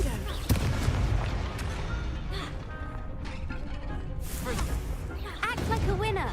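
The Confringo blasting spell in Hogwarts Legacy lets off booming explosions and sharp bursts amid other spell effects and game music, with a voice speaking over them.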